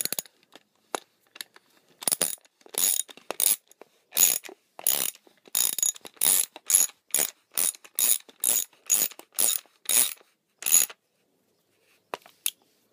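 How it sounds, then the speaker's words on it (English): A ratchet drives in the fastener of a Zastava PAP stock conversion kit, giving a few isolated clicks and then a long run of quick, loud, evenly spaced ratcheting bursts, close and with no talking. "Hold everything in place and just start ratcheting it in."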